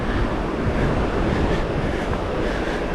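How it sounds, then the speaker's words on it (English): River water rushing into a hydroelectric intake gate at a country park, a loud, dense, steady roar of flowing water with wind buffeting the microphone and no pauses. "See how the water goes into the hydroelectric."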